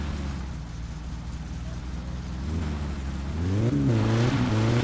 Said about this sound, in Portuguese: Eu dei uma acelerada aqui, o carro deu uma morrida.